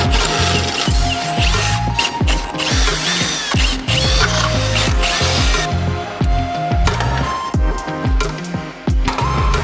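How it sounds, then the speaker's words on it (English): A loud, close rivet gun squeezes rivets into a car's chassis legs in repeated bursts, hammering and buzzing with metallic rattles between strokes. "using the rivet gun to squeeze the rivet together"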